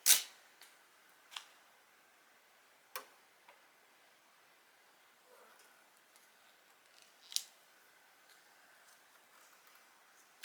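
A few scattered crisp snips of scissors trimming the edges of sticker paper for a Dollar Tree graduation fan, isolated cuts spaced across a quiet room, fairly faint with no talking.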